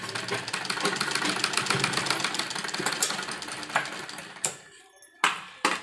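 A sewing machine stitches a net lehenga blouse, running steadily at close range for about four seconds, then stopping and starting again in a few short, sharp bursts.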